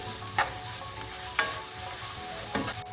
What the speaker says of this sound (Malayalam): നമുക്കിനി ഇതിലേക്ക് സ്പ്രിംഗ് ഒനിയൻ ഇട്ട് കൊടുക്കാം, കാപ്സിക്കം ഇട്ട് കൊടുക്കാം. ഒന്നുകൂടി ഒന്ന് വഴറ്റിയെടുക്കാം.